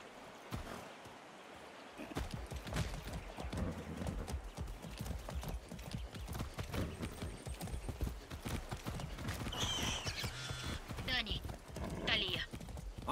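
Galloping horse hooves in Far Cry 6 beat a rapid, continuous clip-clop rhythm over game ambience, with speech and brief higher-pitched sounds overlapping in the latter half.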